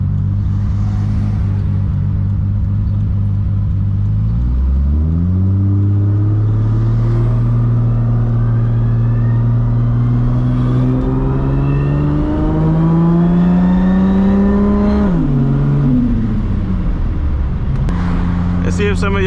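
A Toyota MKIV Supra with a 1600 HP engine revs up from a deep idle rumble, the engine note climbing steadily through the gears, loud and close from inside the car, with an upshift and more acceleration near the end.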